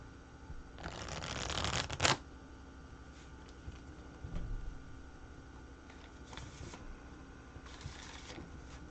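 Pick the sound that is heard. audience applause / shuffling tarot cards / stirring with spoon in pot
shuffling tarot cards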